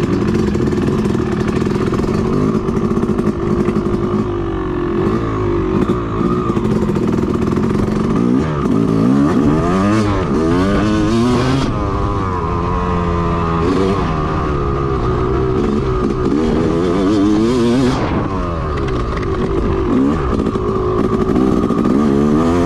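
A Yamaha YZ250 two-stroke motocross bike being ridden on a motocross track, its engine loud and close throughout, revving up and down through repeated accelerations with a raspy buzzing tone.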